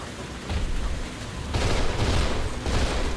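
A submachine gun fires in the horror game Cold Fear as dense, continuous bursts of rapid shots with no pauses, loud and close, swelling in intensity partway through.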